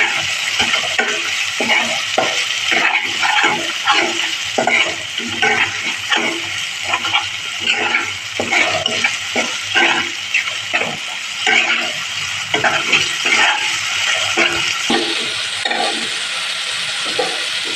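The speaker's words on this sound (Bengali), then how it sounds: "টক দই দিয়ে এবার মশলাটাকে ভালো করে কষিয়ে নেব।" Spice paste with whisked sour yogurt being stir-fried for katla fish curry, a spatula scraping rhythmically through the pan over a steady sizzle, close and fairly loud.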